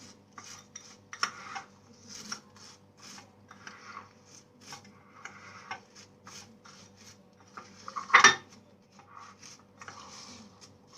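Chocolate cornflake mixture with toasted shredded kadayif stirred in a pan: repeated dry rubbing and scraping strokes with crunchy clicks, close and fairly quiet, with one louder scrape partway through.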